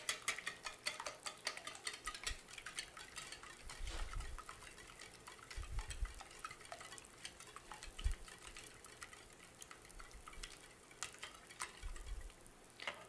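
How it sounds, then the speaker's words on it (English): Eggs being whisked in a bowl, yolks broken and beaten together, giving a steady quick rhythmic clatter of whisk against the bowl, close and moderate, alone without talk. "We're just going to break the yolks and whisk these together."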